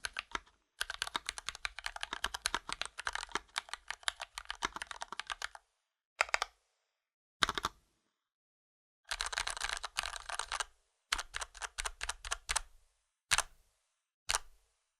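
Typing on a KBDFans Tofu HHKB hotswap mechanical keyboard with sorbothane damping in the spacebar: close, quiet bursts of rapid clacky keystrokes broken by short pauses and a few single taps, no voices.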